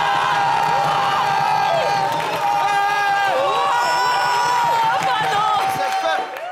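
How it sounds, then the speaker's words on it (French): Audience at a live French dance-battle TV show cheering, whooping and applauding loudly and continuously, a dense crowd roar with shouting voices throughout. "Faites des applaudissements, si c'est le cas."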